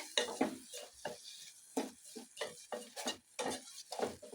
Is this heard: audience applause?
no